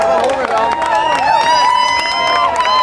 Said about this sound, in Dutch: Hartelijk applaus voor Joni!